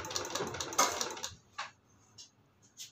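A sewing machine stitches a thin hook strip for a long-sleeve blouse in one short, quiet run that stops after about a second, followed by a few faint clicks.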